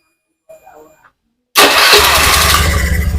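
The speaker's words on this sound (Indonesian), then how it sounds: "akan coba hidupkan apakah motor ini benar-benar seperti yang sebelumnya" A Honda Beat FI scooter engine, its air filter not yet fitted, cranks and catches abruptly after a short pause and faint voice, then settles into a loud, steady close-up idle.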